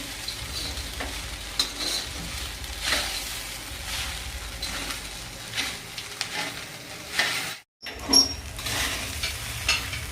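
Sabudana khichdi being stirred in a pan over medium heat, a steady sizzle with repeated scraping strokes of the spoon throughout, briefly interrupted near the end.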